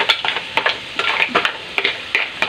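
Mussels sautéing with garlic and potatoes in a pan, with a steady close sizzle and repeated stirring scrapes and clinks of a utensil against the pan.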